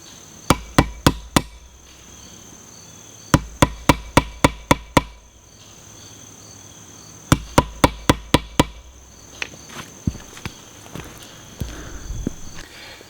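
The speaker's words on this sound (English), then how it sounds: "when you use a wood chisel with a sledgehammer and a block, it bends the chisel in half" A sledgehammer strikes a wood chisel set against a concrete block, heard as sharp close metallic blows in quick groups of four to six, with pauses between and a few lighter taps toward the end.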